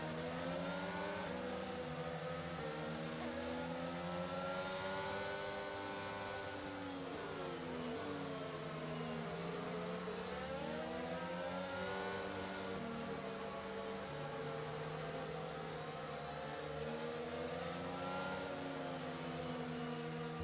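Formula 1 race cars in the F1 2022 video game at the Saudi Arabia Grand Prix, high whining engines rising and falling continuously as several cars run close together, loud and unbroken.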